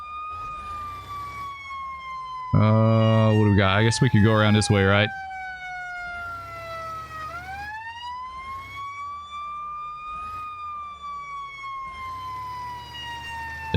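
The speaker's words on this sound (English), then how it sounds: "We'll do some siren action this time." A wailing siren rises and falls on a fire engine in the firefighting game Into the Flames. Over an engine hum it cycles steadily and loudly, with a short burst of blaring horn partway through, as someone talks.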